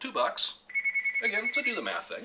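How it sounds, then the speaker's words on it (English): Mobile phone ringtone going off in a home kitchen while cooking, a steady sustained tone with pulsing repeats, heard under someone talking. "And that's my phone going off."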